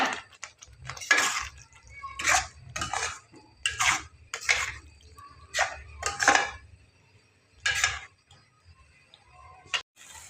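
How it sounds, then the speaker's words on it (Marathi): Repeated metal scraping and clatter of a spatula stirring fish in masala in a pan, coming in short bursts with pauses between, fairly close and no talking. "मच्छी घालून पण आपल्याला 10 मिनिटे चांगलं परतून घ्यायचं आहे।"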